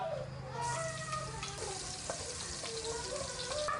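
Minced garlic sizzles and crackles steadily in hot oil in a wok, a continuous close frying hiss with occasional stirring scrapes.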